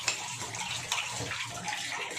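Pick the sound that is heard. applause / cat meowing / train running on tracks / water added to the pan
water added to the pan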